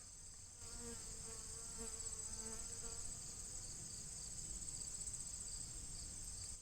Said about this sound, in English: there's tons of buzzing in here